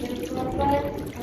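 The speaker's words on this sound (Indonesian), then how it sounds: "selanjutnya kita bilas." Hands being rinsed under a running tap after handwashing, a steady splashing rush of water with some bright droplet spatter, close and moderately loud, brief.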